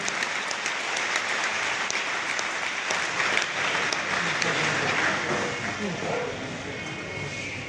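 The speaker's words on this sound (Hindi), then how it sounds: "पूंजी के लिए जोरदार ताली होनी चाहिए" Loud, dense audience applause fills a Hindi-language motivational gathering, clapping steady throughout with crowd voices mixed in underneath.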